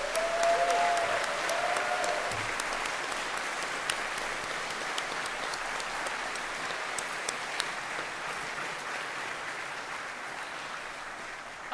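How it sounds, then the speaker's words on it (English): Sustained audience applause at a rocketry conference, a steady wash of many hands clapping from a large crowd, even in loudness throughout with a few sharper claps popping out and no talking over it. "let's have a really big round of applause"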